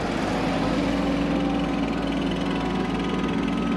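Tractor engines, including a Valtra, drone continuously and loudly while compacting a silage pile, a dense steady mechanical hum with no talk.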